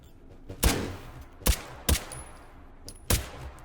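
Four sharp gunshots fired at targets in the VR shooter H3VR, spaced irregularly over a few seconds, each a loud close crack with a short tail over quiet room tone.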